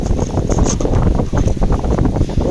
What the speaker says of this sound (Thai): โอ้ยลมลมลม